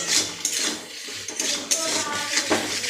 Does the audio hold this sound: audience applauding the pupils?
no